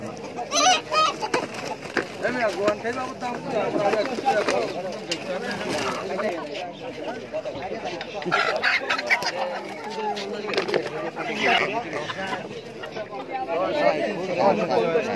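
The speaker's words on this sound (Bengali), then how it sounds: "নিয়েছি একটা মুরগি নিয়েছি" Chickens cluck at a busy village market, with scattered fowl calls rising over constant crowd chatter and nearby talk.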